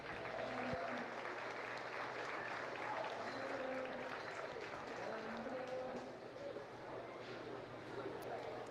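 Spectators in the Monroe County Fair livestock arena clap for a show-ring winner. The applause is soft and distant, holding steady for several seconds, with faint speech underneath.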